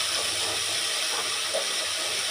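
A paste of almonds, raisins and green chilies is added to browned onions in a hot pan, giving a steady, close hiss of sizzling that continues without a break.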